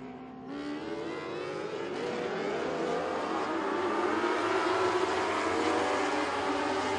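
Mini stock dwarf race cars roar around Crossville Speedway during a 15-lap dwarf feature, a dense mixed drone of engines rising and swelling as the pack passes, heard from the grandstand distance without talk.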